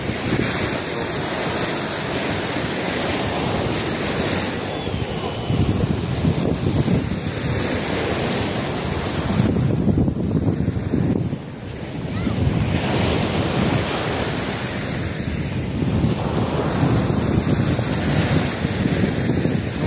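A swollen riverbank after a strong typhoon, with a continuous surging rush of water beneath heavy gusts of wind buffeting the microphone, rising and falling over twenty seconds, no talk.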